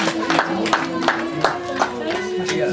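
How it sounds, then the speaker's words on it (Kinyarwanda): Wedding guests clap in a steady rhythm at a celebration, with sharp claps repeating about every third of a second over a sustained tone and crowd voices. "amashyi menshi cyane"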